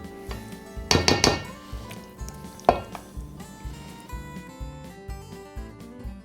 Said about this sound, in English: we're going to fold in 2 cups of our fresh pumpkin puree